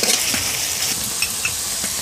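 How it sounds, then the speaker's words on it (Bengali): Onions fry with whole garam masala in a pan, a loud, dense, continuous sizzle close up, with light stirring scrapes and small spattering pops running through it. "এখন নেড়ে চেড়ে ভালো করে ব্রাউন কালার করে পেঁয়াজটাকে ভেজে নিতে হবে"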